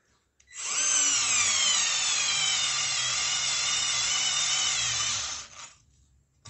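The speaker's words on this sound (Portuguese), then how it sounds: "Você vê que a máquina acaba dando uma sofrida para colocar esse parafuso até o final" A compact Deli 3.6V cordless screwdriver drives a screw into wood with one continuous, loud whirring run of about five seconds, its pitch slowly sagging as the motor strains, then it stops abruptly.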